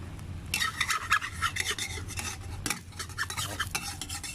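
A utensil scrapes and stirs egg in a frying pan with continuous rasping strokes and a soft sizzle beneath, close up.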